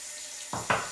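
Tap water gushes into a bathroom sink during a wet shave with a safety razor, starting abruptly and surging in two bursts as the flow is turned up, close and steady with no talking.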